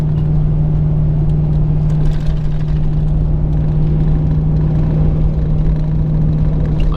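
Ram pickup with a Hemi V8 cruising at about 55 mph in tow/haul mode: a steady, loud, low engine drone heard from the cab, unbroken and even throughout, with no voices.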